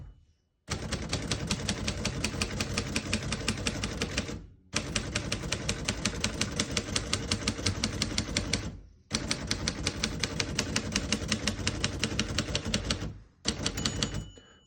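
Rapid, steady clacking of keys on a 1939 Royal vintage portable typewriter in three long runs separated by brief pauses, with a mechanical clatter throughout and no voices.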